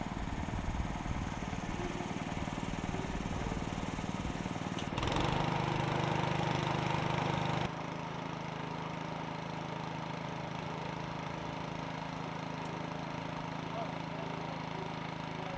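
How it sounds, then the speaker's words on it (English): A harbor patrol boat's engine idles at the Monterey wharf with a steady mid-pitched drone that grows louder for a few seconds and then settles back to an even hum. "It's a pretty cool harbor patrol boat."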